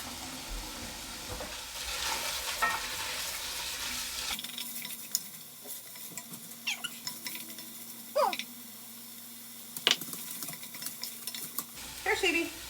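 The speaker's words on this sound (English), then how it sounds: "we're gonna saute these for 3 minutes." Ingredients for one-pot Thai chicken soup sautéing in a pot, a soft steady sizzle with scattered clinks and scrapes of a utensil stirring against the pot.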